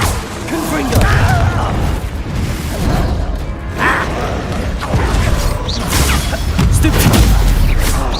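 Confringo spell explosions burst repeatedly in the video game Hogwarts Legacy, loud booms and crackling impacts amid combat clatter, with game voices speaking over the fight.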